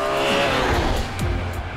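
A BMW M3 E46 with a 3.2-liter inline six-cylinder engine revving hard, a loud, dense high-revving roar with shifting tone over a short burst, no voices.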